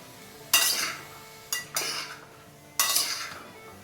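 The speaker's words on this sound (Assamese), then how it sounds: "এয়া গোটেইখিনি ভালদৰে লৰাই দিম" A utensil stirs vegetables frying in a pan over a gas flame, with three distinct scraping, clinking strokes against the metal between quieter pauses, close by and alone.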